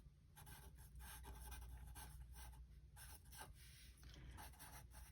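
Pen scribbling pretend writing across paper, a soft, close scratchy rasp in short strokes with small breaks, faint and steady throughout.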